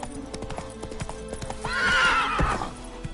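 A horse in The Witcher 3 moves off at a quick pace, with steady clip-clopping hooves close by, then a loud whinny over the footfalls.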